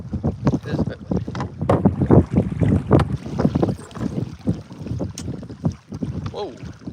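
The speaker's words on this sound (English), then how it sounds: "It's kind of windy. It is a bit windy." Wind blows hard on a lake while fishing from a boat, heavy gusty buffeting across the microphone with low rumbling bursts and a faint voice in the mix.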